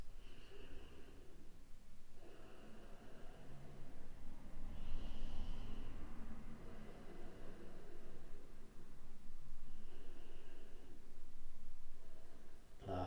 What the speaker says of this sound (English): nice deep forward fold, nice deep breaths